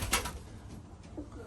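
Pigeons coo softly on and off in a calm loft, low murmuring calls close by with faint rustling and no talk.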